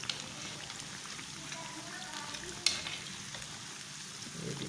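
Lentil ladu pithi frying in a pan, a soft steady sizzle with faint crackles and one sharp clink midway, fairly quiet and close.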